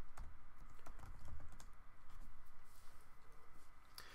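Typing on a computer keyboard, a quick run of soft clicking keystrokes, close and quiet with no talk.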